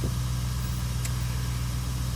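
A BMW E31, E38 or E39 engine idles steadily just after starting, with the bonnet open for expansion tank replacement. It gives a close, even low hum with a faint mechanical whir throughout, and nobody talks.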